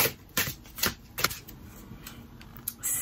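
A deck of tarot cards is cut and handled close by, with a few quick riffling flicks and soft card slaps spaced through a quiet few seconds and no talking.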